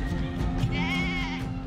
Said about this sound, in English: In memory of Ibrahim's sacrifice, it's tradition for each household to kill a sheep and eat it.